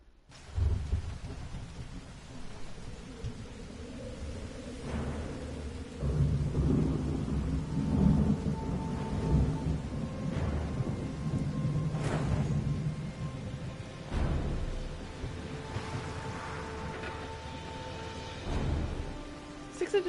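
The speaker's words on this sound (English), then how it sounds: "6 inches of rain in like 3 days is a lot of rain." Heavy rain falls steadily while thunder rolls through in several deep, drawn-out rumbles, some louder and closer, with sharper cracks between them.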